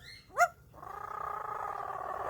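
Parrot imitating a dog with a single short bark-like yelp, followed by a sustained low rumbling growl-like sound, close and fairly quiet.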